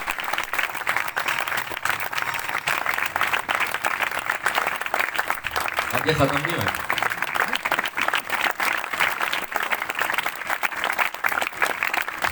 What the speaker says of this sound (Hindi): जोरदार तालियां बजाएं इस बात के लिए।